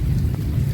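Heavy rain pours down steadily outdoors near a parked white car, a dense, continuous roar with no voices.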